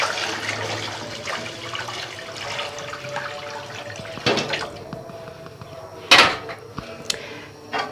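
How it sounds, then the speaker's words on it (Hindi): Sugar syrup, neither hot nor cold, poured into semolina for suji halwa in a home kitchen: a steady close rushing pour of liquid, then sharper clinks of a metal utensil and pan toward the end. "इसमें शामिल करूँगी शीरा सूजी के अंदर"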